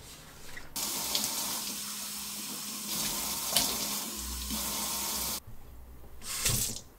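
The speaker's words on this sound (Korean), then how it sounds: "남은 세제가 닿을 때까지 개수대도 닦아요." Water runs from a faucet into a kitchen sink during cleaning, a steady close splashing stream with brief pauses and shifts in flow, and no voices present.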